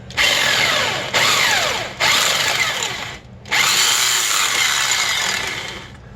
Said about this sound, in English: have to break out the big boy drill for this